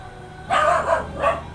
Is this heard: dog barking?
yes